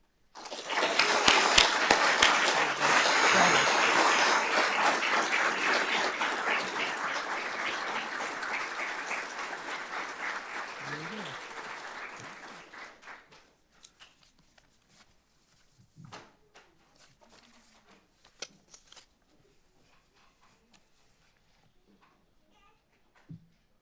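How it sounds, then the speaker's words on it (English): An audience at a fire department awards ceremony breaks into loud, sustained clapping for about twelve seconds before it fades, leaving scattered claps, shuffling and murmurs. "Let's have another round of applause for all of tonight's recipients"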